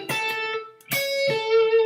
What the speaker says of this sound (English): But if I were to do it in Mixolydian, it would sound like this.